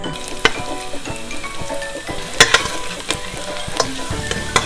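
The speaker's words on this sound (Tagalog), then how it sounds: "let's saute the garlic" Garlic sautéing in leftover oil from frying pork belly, a steady close sizzle with intermittent stirring clanks and scrapes of a utensil against the pan.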